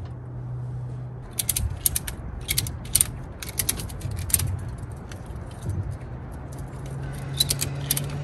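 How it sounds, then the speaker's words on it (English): Ratchet straps being cranked tight to secure a Royal Enfield Himalayan motorcycle on a small trailer; short bursts of sharp metallic clicking come in irregular clusters over a low hum, close by and without talk. "I can ratchet strap them down equally."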